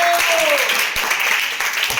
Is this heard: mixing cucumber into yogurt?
no